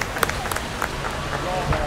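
Scattered, uneven clapping breaks out for a player named Ben during a crossbar challenge with penalties, a few sharper claps standing out over talking voices.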